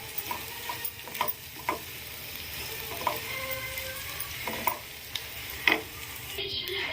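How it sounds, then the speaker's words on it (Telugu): Bitter gourd pieces fry steadily in oil in a pan, a soft continuous sizzle broken by scattered clicks and taps of a utensil stirring against the pan. "మొత్తం అంతా కూడా మంచిగా ఫ్రై అయ్యేంత వరకు కూడా మనం ఫ్రై చేసుకోవాలి"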